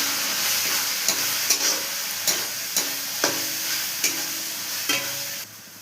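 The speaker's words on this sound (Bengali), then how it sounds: "এবার এর মধ্যে একটু হলুদ গুঁড়ো পরিমাণ মতো আর কাশ্মীরি লাল লঙ্কার গুঁড়ো দিয়ে ফ্রাই করব।" Spice paste frying in a pan with turmeric and Kashmiri chili powder, a steady loud sizzle punctuated by regular scraping strokes of a spoon, roughly every half second to second.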